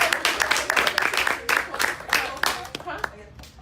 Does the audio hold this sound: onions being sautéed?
no